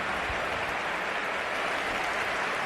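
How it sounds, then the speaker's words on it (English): Stadium crowd at the Bernabeu applauding Gareth Bale during a Real Madrid match, a steady, dense wash of clapping and crowd noise sustained throughout without pause. "it's a well-deserved round of applause for Gareth Bale as Lucas Vazquez comes on"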